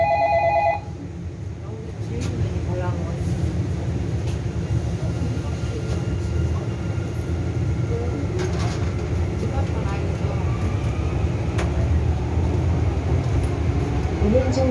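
A Sillim Line light rail train in Seoul runs between Sillim and Seowon stations, heard from inside as a steady, loud rolling rumble and hum, opened by a short electronic chime.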